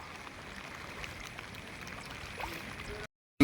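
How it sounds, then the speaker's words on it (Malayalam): A small waterfall runs beside a temple during a flood, giving a faint, steady rush of water. The wash of sound holds evenly before dropping out abruptly near the end. "ചെറിയൊരു വെള്ളച്ചാട്ടം"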